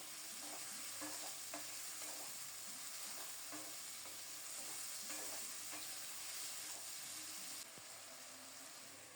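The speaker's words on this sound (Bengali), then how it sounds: "সরিষার তেলে আলুর পরিমাণ লবণ দিয়ে আলুগুলো দিয়ে দিলাম।" Potatoes fry in mustard oil with a steady, close sizzle throughout, broken by repeated scraping and stirring strokes at an uneven rhythm, with no voices.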